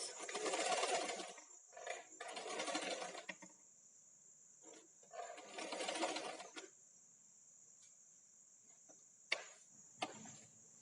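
A sewing machine stitches an A-line dress in several runs of rapid whirring, stopping and starting with short pauses and a couple of faint clicks between bursts.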